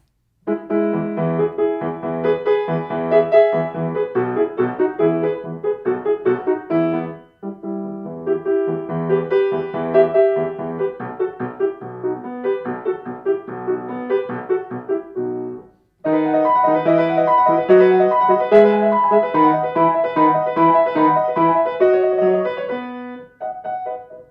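Solo piano plays Haydn's Sonata in E Major Hob.XVI:13 finale, Presto, quick and lively with busy runs and chords, pausing briefly twice before resuming at full volume.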